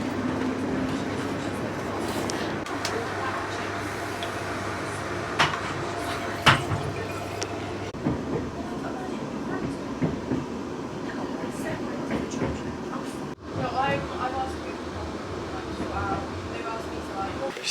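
Train and station ambience at Watford Junction: a steady low rail rumble with scattered clanks and thumps runs throughout, fairly loud and continuous, with a brief dip near the end.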